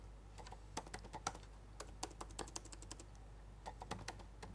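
Quick bursts of keystrokes on a computer keyboard as code is entered during a Python programming lecture, clicks loud and close, coming in uneven runs with short pauses and no talk.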